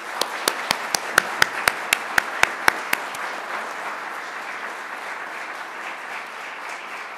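At a DAR ceremony, a dozen sharp, evenly spaced close claps ring out first, then the wider audience applause continues as a steady, softer patter.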